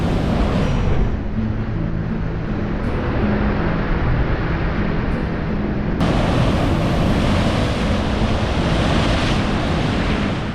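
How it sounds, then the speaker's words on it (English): Sea waves and strong tidal current rush over rocks at Bridgewater Bay, a loud continuous wash of surf with heavy wind buffeting, no voices. "The way the current of the water flows off the rock is very, very powerful"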